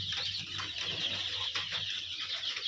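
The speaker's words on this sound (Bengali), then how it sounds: "তো এই হলো আমার মুরগির খামার।" Native country chickens cluck and call in a steady poultry-farm clamor, several birds overlapping at close range with continuous background noise.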